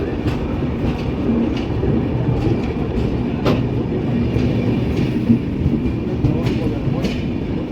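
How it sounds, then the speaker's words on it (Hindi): Tamil Nadu Sampark Kranti Express passenger train rolling slowly through a loop line, a steady low rumble of wheels and cars continuing throughout, with occasional faint clicks and light background chatter. "ट्रेन लूप लाइन के ही माध्यम से निकल रही है धीरे धीरे"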